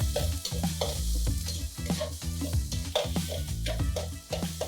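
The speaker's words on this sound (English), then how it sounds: "add 1 inch of ginger that is finely chopped, 6 to 7 cloves of garlic that are finely chopped. Just saute them for a few seconds." Finely chopped ginger and garlic sautéing in ghee, a loud close sizzle broken by brisk rhythmic spoon strokes against the pan, with no one talking.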